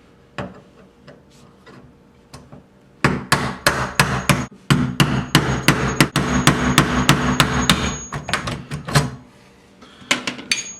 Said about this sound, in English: I'm just gonna try to take a chisel and break off that little piece of metal